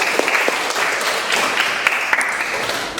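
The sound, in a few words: classroom applause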